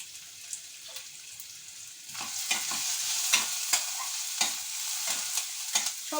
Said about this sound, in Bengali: পেঁয়াজটা কষাতে কষাতেই আমি কয়েক দানা চিনি দিয়ে দিচ্ছি।